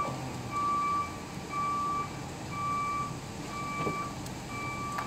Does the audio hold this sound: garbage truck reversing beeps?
yes